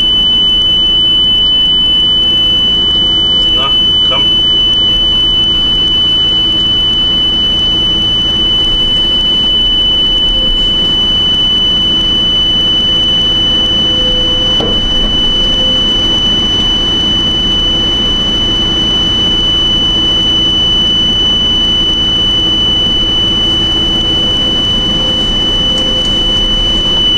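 A shrill, steady electronic alarm tone holds unbroken for nearly half a minute at high volume, set against a broad roaring background, with a couple of faint clicks and no talk.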